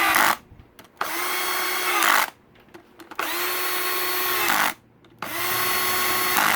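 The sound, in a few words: cordless drill tightening bolts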